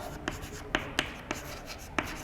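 Chalk or marker strokes on a classroom board during a tenth-grade physics lesson on resistors in series: several short, crisp scrapes and taps at an irregular pace, moderately close against a quiet room.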